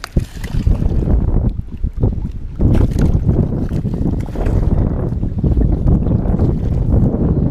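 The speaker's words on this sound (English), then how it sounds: "Wind's dying down some, guys, but it's still so windy" Loud, continuous wind buffeting the microphone at night on Lake Norman, a steady roaring rumble with gusts rising and falling throughout, no voices.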